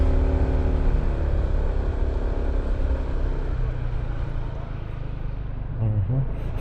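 A Honda PCX 160 scooter is ridden at night through the streets of Baguio. Its engine gives a continuous, fairly loud hum and whir that swells slightly near the end, with a voice faintly present at times.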